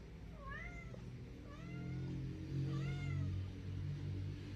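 A cat meows three times with rising-falling cries, fairly close, over a low steady rumble of background noise.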